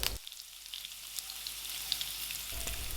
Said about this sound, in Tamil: இப்போ இந்த அளவுக்கு வதக்கினதுக்கப்புறமா இதில் கொஞ்சம் கருவேப்பிலை போட்டு பொரிய விட்டுறலாம்.